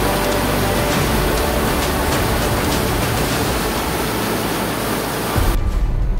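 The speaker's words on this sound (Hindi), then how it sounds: "इतना ज्यादा तेज बहाव है कि वो बहाव वैसे किनारे कर दे रहा है" Fast-flowing canal water rushes in a loud, steady roar that fills the scene, cutting off abruptly near the end.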